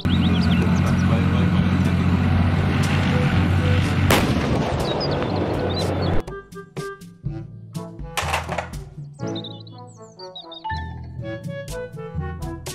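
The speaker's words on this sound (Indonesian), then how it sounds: "Tank baja." Deep booming blasts from an army tank firing and a heavy rumbling roar dominate the first half, then give way to sharper, scattered bangs and thuds.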